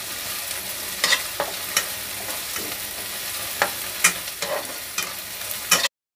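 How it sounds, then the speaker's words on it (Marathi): Crushed garlic frying with onion in a pan: a steady sizzle with a spoon scraping and stirring now and then, close and moderately loud, with no voices. "एक चमचा बारीक लसूण क्रश करून घेतलेला, त्याला कांद्यासोबत भाजून घ्यायचं आहे."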